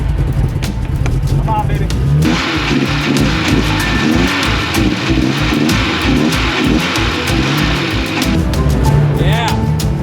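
A 1982 Porsche 924 Turbo engine cranks and catches, settling into a loud, rhythmic running chug close by, while a voice speaks briefly over it.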